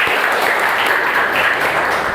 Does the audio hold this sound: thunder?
no